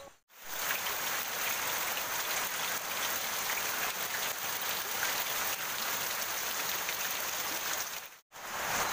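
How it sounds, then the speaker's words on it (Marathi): Heavy monsoon rain pours down outdoors as a dense, steady hiss, loud and continuous, with brief pauses only at the very start and end. "पाऊस आहे ना ते बाहेर लागतच नाही पाऊस जोरात आहे."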